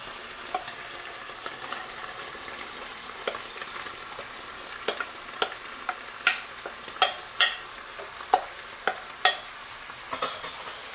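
Chopped vegetables including zucchini sauté in a pan with chicken and mushrooms, a steady soft sizzle broken by irregular sharp scrapes and clacks of stirring that grow more frequent and louder toward the end.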